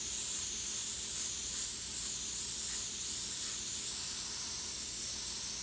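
An airbrush sprays white paint in one continuous, close, steady hiss with a slight wavering texture, no talking.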